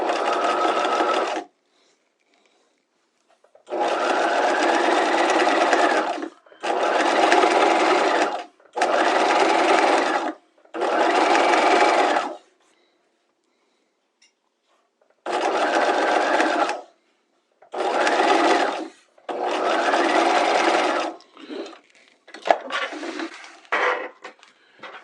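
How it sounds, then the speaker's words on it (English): Sewing machine stitching a bias strip to the right side of fabric at a quarter inch for a Hong Kong finish hem, back-tacked at each end; loud, close bursts of rapid whirring run several seconds each, separated by silences, ending with shorter stops. "we're going to sew the right side of this bias strip to the right side of the fabric"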